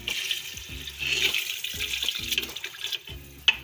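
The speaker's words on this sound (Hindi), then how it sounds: "ये पानी डालेंगे इसमें" Water splashes and gurgles into a pot of bottle gourd and chana dal curry in several short pours, close and moderately loud, ending with a sharp clink.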